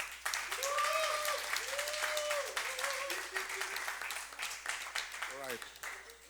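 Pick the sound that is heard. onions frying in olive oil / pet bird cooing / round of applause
round of applause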